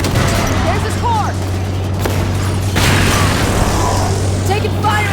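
Gunfire and booming explosions from a Halo game keep going under a constant low engine drone, and a voice is heard in the middle of the fighting.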